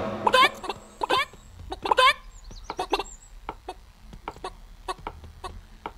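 Chickens in the video game Wobbly Life cluck in quick bursts of sharp, close calls, followed by scattered clucks and small pecking clicks in a quiet scene.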